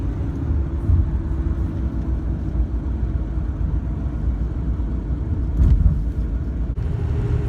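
A Ford Powerstroke 6.0 diesel truck cruising on the road, a steady low engine and road rumble throughout with a brief swell near the end, heard from inside and without speech.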